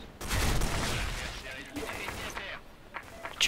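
Gunfire from a weapon in the shooter game S.K.I.L.L. Special Force 2 crackles in a rapid burst, then fades into scattered shots. It sounds moderately faint, with voices from players mixed in.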